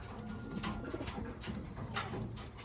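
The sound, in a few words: pigeon cooing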